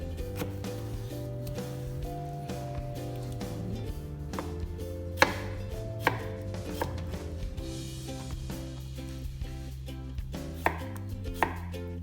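A knife chops cucumber on a cutting board for a Korean spicy seasoned cucumber side dish, steady quick taps over soft background music, with no talking.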